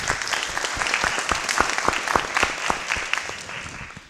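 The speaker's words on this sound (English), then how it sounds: "Let's give them all a round of applause." An audience at a District 3 and mayoral candidate forum applauds the candidates: a dense, sustained round of clapping that stays steady and close, then tapers slightly toward the end with no voices heard.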